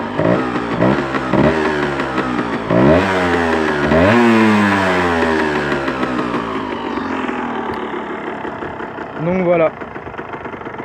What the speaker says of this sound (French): Le ralenti est assez bas.